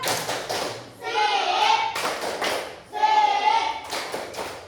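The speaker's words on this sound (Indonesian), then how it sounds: "sekarang kita beri tepuk salut" A class of children performs the 'tepuk salut' clap chant, bursts of rhythmic clapping alternating with group chanting voices in a classroom.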